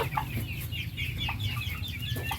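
Brooding hens cluck close by in irregular bursts of soft, repeated calls over a low steady background hum.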